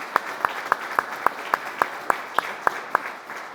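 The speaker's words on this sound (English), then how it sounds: "let's give a round of applause" Steady, evenly spaced hand claps ring out about a dozen times at an awards banquet, crisp and moderately close, over a faint room hum.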